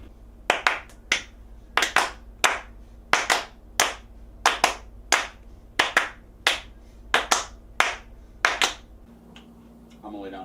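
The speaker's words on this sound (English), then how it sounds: "Claps?" Hand claps repeat in a steady rhythm, about fifteen sharp close claps, some landing as quick doubles, loud and clear over a low background hum, with no talking.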